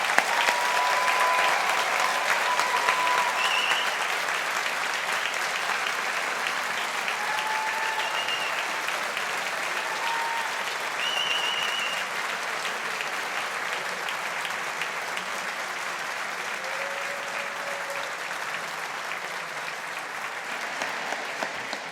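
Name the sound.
audience applause for engineering graduates at ceremony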